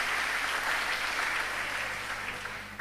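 A church congregation at a Sunday service claps steadily together in praise, a dense, even wash of applause that holds at one level and fades slightly toward the end.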